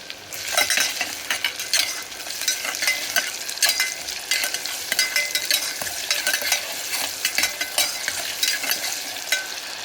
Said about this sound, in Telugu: ఉప్పు చేర్చుకుంటే తొందరగా బాయిల్ అవుతుందండి. ఉల్లిపాయలు త్వరగా వేగుతాయి.